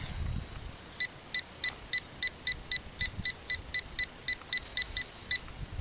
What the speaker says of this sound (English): My detector's not falsing. It must be hitting something else.